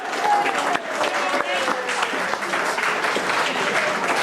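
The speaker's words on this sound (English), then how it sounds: "Give them a round of applause, ladies and gentlemen." An audience at a revue show in a village hall applauds steadily, a dense, continuous patter of clapping heard close, while someone speaks over it.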